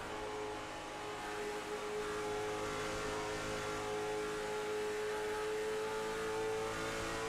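A race car engine in the iRacing sim at Iowa Speedway drones loud and steady at high revs, held on throttle through a turn with a sustained, slowly varying tone and no talk over it.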